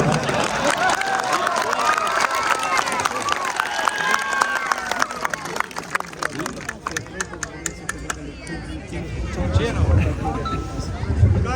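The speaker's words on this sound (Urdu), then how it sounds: "بھئی آپ کے تالیوں میں کنجوسی نظر آ رہی ہے۔" Political rally audience clapping and cheering, a dense burst of applause with crowd voices that thins out into scattered claps, then the crowd noise swells again toward the end.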